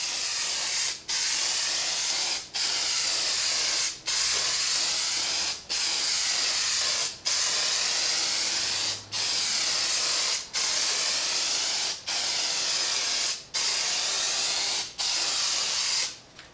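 A Plasti Dip spray can coats an aquarium fish tank background in about ten even, steady hissing bursts, each cut by a brief pause, loud and close with no talking.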